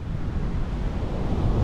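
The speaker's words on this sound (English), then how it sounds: "Sea's got up a bit." Sea surf breaking on a beach on the Holderness coast, with a southerly wind blowing down the beach, makes a steady, dense roar of waves and gusting wind noise on the microphone.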